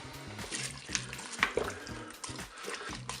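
Water poured into a Cookeo multicooker pot over a crumbled chicken stock cube, a soft steady splashing with a few small clinks, close and moderately quiet.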